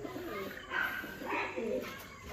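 Pigeons on a farm coo softly in a few low, rolling calls over about two seconds, close by and alone with no voices.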